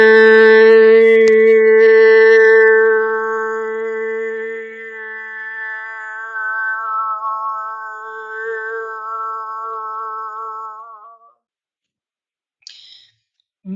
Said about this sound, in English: move your tongue up and down slowly to produce an overtone